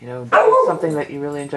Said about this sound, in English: you can't bark while I'm doing the readings